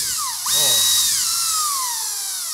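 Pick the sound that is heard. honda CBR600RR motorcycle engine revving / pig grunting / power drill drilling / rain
power drill drilling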